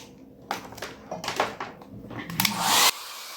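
A hair dryer whirs steadily close by, with irregular bumps and rustles, rising to a louder blast before cutting off abruptly.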